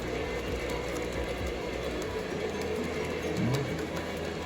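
A Florida East Coast model train runs along a home layout with a low, steady mechanical rumble and faint clicking of wheels, moderately quiet and continuous throughout.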